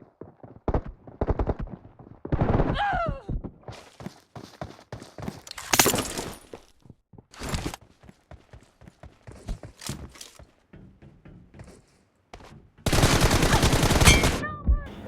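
Rapid bursts of gunfire in a shooting video game, sharp cracks scattered across the clip with a dense sustained volley near the end, loud and close with no talking.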